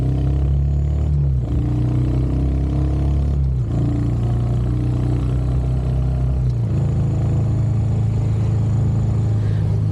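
A 2025 Royal Enfield Hunter 350 with a slip-and-assist clutch accelerates from a standstill, its loud, steady thumping engine note dropping in pitch at each of several gear shifts.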